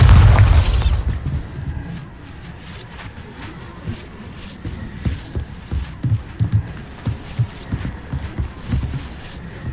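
A Bombarda spell explosion in Hogwarts Legacy bursts loudly at the start, followed by a run of deep, throbbing booms and thuds at irregular intervals.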